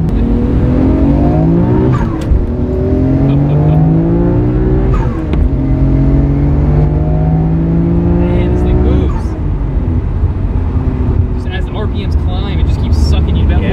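A turbocharged HKS Nissan Skyline R32 GT-R engine making 500 horsepower roars loudly as it accelerates hard on the street, pitch climbing through gear changes with brief dips between shifts, heard from inside the car.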